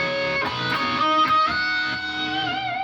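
An electric guitar plays a solo run slowly, a string of sustained, distorted notes moving up and down the neck, loud and close with no talking.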